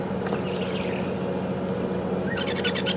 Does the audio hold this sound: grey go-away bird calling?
yes